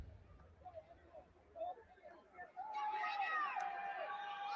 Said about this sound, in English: Got a nice crowd here at the Mississippi Coliseum, better known as the Big House.